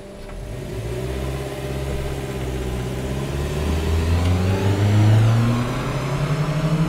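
A Daihatsu Sigra car carrying seven people pulls away from a standstill, its engine revving loud and close with a rising note that climbs, drops at a gear change and climbs again, with no talk.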